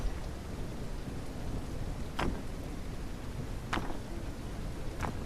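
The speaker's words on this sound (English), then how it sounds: "I'm gonna get out of the rain" Rain falls in the medieval survival game Noble Legacy as a steady, loud hiss of dense rainfall, broken by a few sharp crackling bursts that stand out above the downpour.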